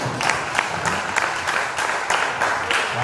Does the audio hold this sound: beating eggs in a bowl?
no